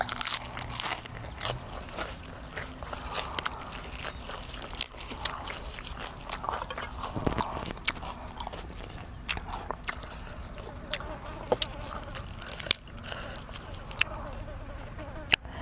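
Crunchy chewing and biting of a spicy Isan-style apple snail salad, a series of crisp, close crackles and bites scattered irregularly over a quiet background, with faint voice-like sounds.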